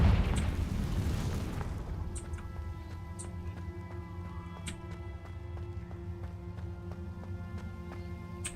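A Confringo fire spell bursts in Hogwarts Legacy, a loud blast that rumbles away over about two seconds, then gives way to a steady, faint game ambience with small clicks and tones.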